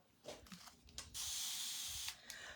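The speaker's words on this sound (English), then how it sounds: "Sometimes I like to spray some water in, some distilled water in my paste before I put it away." A spray bottle mists distilled water into chalk paste, a quiet steady hiss lasting about a second after some soft handling rubs and clicks, then a short second spray near the end.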